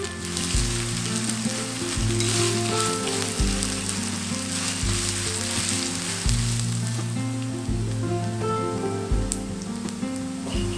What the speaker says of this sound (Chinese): 我们就加入姜丝、杏鲍菇跟干香菇下去